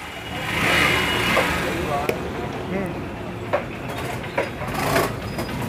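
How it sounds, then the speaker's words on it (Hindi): Honda Shine motorcycle engine idling steadily just after a kick start, with a continuous mid-pitched mechanical rumble and a few sharp clicks over it. "एक ही किक में स्टार्ट ले लिया है।"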